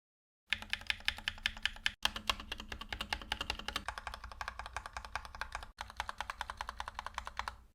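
Typing on a Gamakay LK67 keyboard with stock plate-mounted stabilizers: a close, steady run of quick, muted key clacks in an even rhythm, with two brief pauses and no talking.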